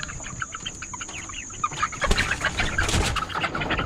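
Farm chickens cluck and chatter close by, with overlapping calls that grow busier and louder in the second half. A steady high whine runs underneath.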